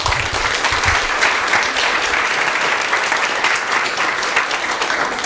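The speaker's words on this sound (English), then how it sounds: "congratulations and a round of applause for everybody in this room." A room full of people at a city general plan vision workshop applauds steadily, a dense and fairly loud wash of clapping that holds evenly throughout with no talk.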